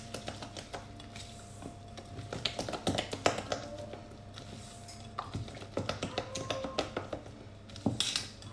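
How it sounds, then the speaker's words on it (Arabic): Plum cake batter with bicarbonate being mixed with a spatula in a bowl, heard as irregular close taps and knocks against the bowl. "Donc je vais juste mélanger à la spatule."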